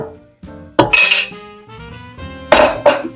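Crushed strawberries tipped from a container into a metal pot for strawberry jam, giving a few loud clinks and clatters of dish against pot with softer scraping in between, close up and with no talking.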